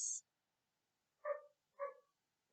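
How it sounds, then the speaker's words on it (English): A dog barks twice in quick succession, two short, moderately distant barks in an otherwise quiet indoor setting. "the dog's barking, let's hope it stops."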